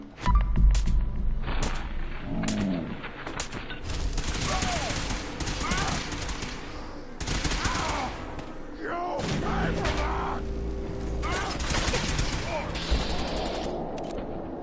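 Gunfire in Fallout 4, scattered shots and short bursts mixed with combat clatter, loud and irregular, with people talking over much of it.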